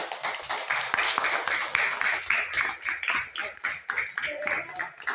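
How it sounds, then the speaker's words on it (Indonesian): Students in a classroom clapping to welcome a group coming to the front, a fairly steady run of close hand claps with voices talking over it. "Kasih tepuk tangan."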